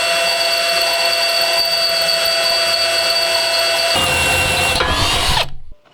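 A power drill boring through steel plates whines steadily at close range, then the pitch shifts as it bites harder, winds down and stops.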